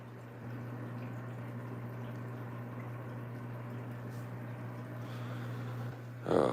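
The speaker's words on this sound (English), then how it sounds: "there's probably a lot of water flow in this tank" Steady water flow and hum circulate through an aquarium tank, a constant low drone under a faint wash, with a brief louder knock or splash near the end.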